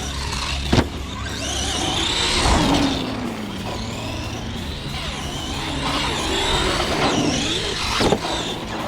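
Arrma Gorgon RC truck racing over jumps outdoors, its electric motor whining and surging in rising and falling bursts, with thumps of landings and tire noise from nearby.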